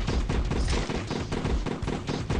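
Dense, continuous gunfire from the zombie-shooting video game 200 Days Zombie Apocalypse, with rapid overlapping shots in a loud, steady automatic barrage.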